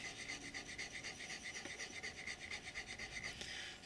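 A blade is honed on a stone to form a new primary bevel, a quiet rhythmic rasping of even back-and-forth strokes repeating close up with no talk.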